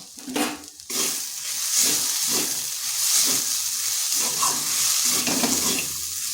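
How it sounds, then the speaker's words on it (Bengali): Potatoes being stirred with ground cumin and chilli powder in a hot frying pan, a steady loud sizzle running throughout with scraping stirs, spoon clatter near the start. "ভালো করে আলুর সাথে মিশিয়ে নিচ্ছি।"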